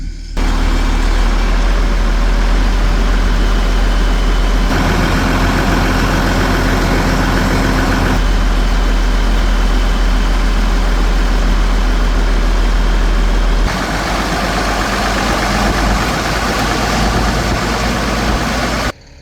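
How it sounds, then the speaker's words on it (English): A large irrigation pump engine, warmed up, idles steadily and loudly for the whole stretch, a continuous low rumble with slight shifts in tone and no voices. "Alright, she's all warmed up."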